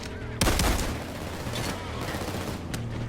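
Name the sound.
SWAT turret gunfire in the video game Payday 2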